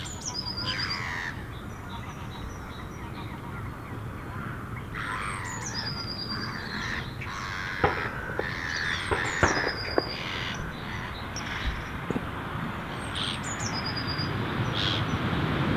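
A flock of seagulls calling over a carp fishing lake, repeated squawks and cries at moderate distance over steady outdoor wind noise, with brief knocks and thuds nearby.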